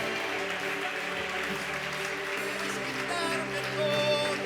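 A congregation at a church meeting applauds in praise, the clapping steady and sustained. Sustained tones, likely from instruments, run underneath throughout.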